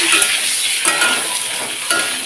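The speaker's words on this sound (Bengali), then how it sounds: "তা আমি একবারে তেলে দিয়েই পুরো ভেজে নিচ্ছি" Eggs seasoned with salt and turmeric fry whole in hot oil, giving a steady close-up sizzle with crackling hiss and a few louder pops from stirring, no voices.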